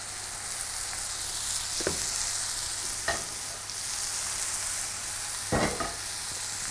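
Mushrooms frying in oil in a pan: a constant bright sizzle with a few sharp clinks and scrapes of a utensil against the pan, no voices.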